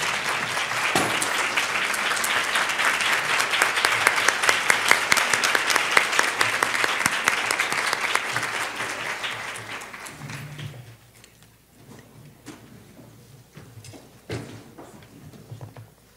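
An audience at a university lecture series applauds, a dense, loud round of clapping that builds, peaks midway, then thins to scattered claps and fades out.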